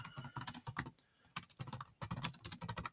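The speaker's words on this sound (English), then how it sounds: "if I start typing a line" Rapid typing on a computer keyboard in a terminal text editor produces a steady clatter of close keystrokes, broken by two brief pauses before the tapping resumes.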